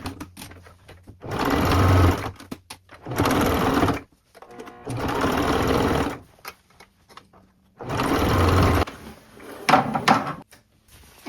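A sewing machine hems a thrifted corduroy skirt in four or five loud, close bursts of rapid stitching, each a couple of seconds long, separated by short quiet pauses with faint handling noises.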